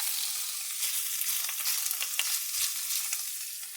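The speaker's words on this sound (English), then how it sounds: "I'm using clarified butter to roast the meat." Meat roasts in clarified butter for a creamy southern German Geschnetzeltes ragout, giving a loud, continuous hiss with small crackling pops and no talk.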